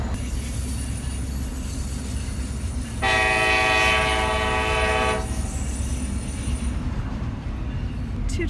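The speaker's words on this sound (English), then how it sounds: "Yes, both trains are going." A CSX freight train passes with a constant low rumble, and midway a long, loud train horn blast sounds for about two seconds before the rolling noise carries on.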